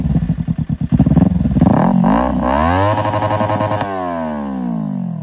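A Kawasaki Ninja 300 revs hard near the 15,000 RPM limit, loud and close: choppy blips at first, then sustained high revving and a falling pitch as the throttle is released.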